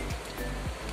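A village river swollen by continuous rain rushes past in a loud, steady, broadband roar of flowing water, with a few low thumps and no voices.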